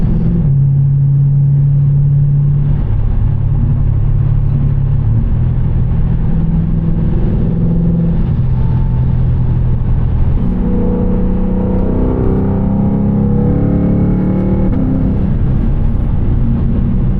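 A 500 hp Lexus RC F V8 with an eight-speed gearbox accelerates hard along backroads, heard from inside the cabin as a loud, continuous droning roar whose pitch climbs and steps through gear changes.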